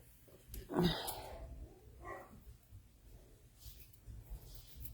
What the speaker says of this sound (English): Puppies are gonna get noisy apparently.